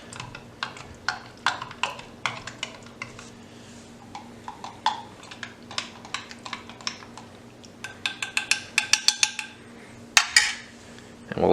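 Utensil stirring instant potato and noodle soup in a container, producing a run of sharp, close clicks and scrapes in uneven bursts, quickening toward the end.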